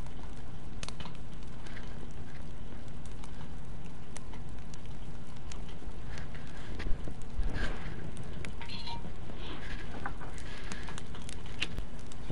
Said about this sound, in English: Sounds like it's still fucking raining out there.